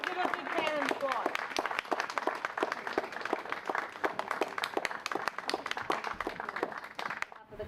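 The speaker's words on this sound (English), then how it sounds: "Let's give a big hand and applause." Applause breaks out from a crowd at a mental health center's awareness week event, with brisk overlapping claps and a voice speaking over them at the start, the clapping continuing steadily before cutting off abruptly.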